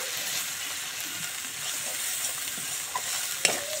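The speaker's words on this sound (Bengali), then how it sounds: "দিয়ে মশলাটা ভালো করে কষিয়ে নিচ্ছি" Garlic, onion, chili, ginger, turmeric and salt sizzle in a pan while being stirred, giving a continuous close frying hiss broken by a few scraping clicks near the end.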